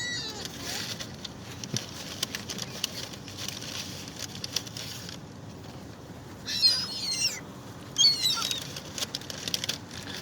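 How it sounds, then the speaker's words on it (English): Birds in a parking lot fight, with sudden bursts of flapping wings and scuffling chirps rising over background noise, loudest in two short flurries near the end; a voice talks faintly underneath. "You ever seen birds fight?"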